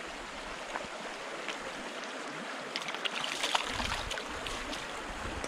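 A grasshopper fly lands with a small splash on a tiny Tasmanian stream, the brief slap rising over a steady, close wash of running water.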